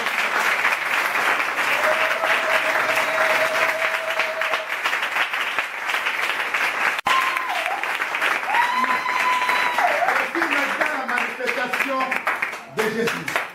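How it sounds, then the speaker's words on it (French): A church congregation at a crusade in the Central African Republic breaks into loud sustained applause and cheering for God, dense clapping throughout with a voice calling out above it in the latter half. "on va acclamer l'Éternel"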